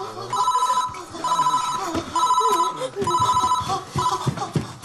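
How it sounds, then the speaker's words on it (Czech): An old-style telephone bell rings loudly in rapid trilling bursts, four rings with short gaps between them, and faint voices murmur underneath. "A teď musí zvonit telefon."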